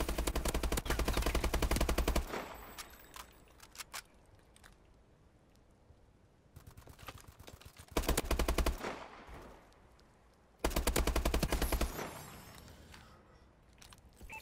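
BAL-27 rifle fire in Call of Duty: Advanced Warfare, three long loud automatic bursts of rapid gunfire separated by quieter stretches of game ambience, close and dominant.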